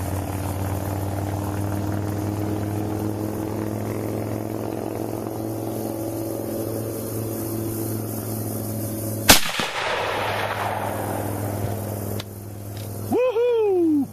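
A Winchester Buffalo Bill .30-30 lever-action rifle fires one loud, sharp shot outdoors at a target range. A steady engine-like drone runs beneath it and a reverberant tail follows the shot.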